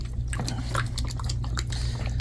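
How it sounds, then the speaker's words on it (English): A sponge roller from a hard floor cleaner being squeezed and worked by hand in a sink of warm water, giving soft, irregular sloshing and squishing under a steady low background hum. "submerge the sponge roller and then just massage it"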